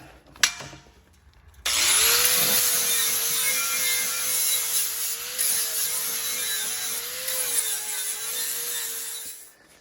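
A small angle grinder works on the seat bracket of a John Deere LA165 lawn tractor, one loud continuous whine holding steady for about eight seconds after a brief quiet start, then cutting off.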